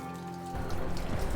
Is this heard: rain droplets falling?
yes